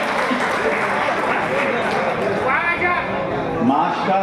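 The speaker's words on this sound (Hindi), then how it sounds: "तालियां।" Applause from the audience at an annual Urdu poetry mushaira, a dense steady patter of many hands sustained throughout, with voices and cheers rising over it toward the end.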